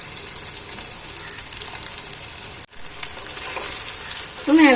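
Large pieces of raw plantain fry in hot oil with a loud, steady close sizzle, briefly cut off midway, then resuming with a scrape of stirring near the end.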